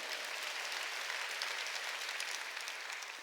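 A church congregation at a Sunday worship service claps together in a continuous, dense roar of hands that holds steady and loud throughout, easing slightly at the close.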